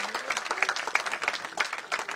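At a Congress farmers' victory rally in Jaipur, a large crowd applauds in a dense, continuous wash of clapping that carries on evenly throughout.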